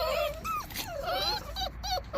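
Puppies in an outdoor kennel under a heat lamp whine and yip in short overlapping high-pitched cries, close and fairly loud, with faint voices behind them.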